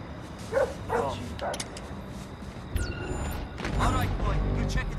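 A guard dog in the stealth game Splinter Cell Blacklist gives a few short yips and barks, then whimpers, moderately close amid game ambience and a voice talking over it.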